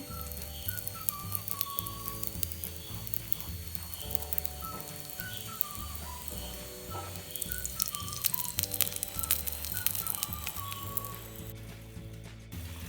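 Oil-rubbed chicken katti kebab sizzles steadily while roasting, a dense continuous crackle heard close, with a steady low mechanical hum and faint intermittent beeps running underneath.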